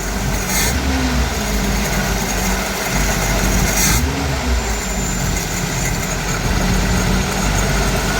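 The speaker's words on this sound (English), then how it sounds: "I think if it had an air cleaner on it, it'd idle better." Engine of a 1984 Toyota pickup, running with no air cleaner fitted, idles with a steady low rumble, close and continuous and a little rough, with no talking.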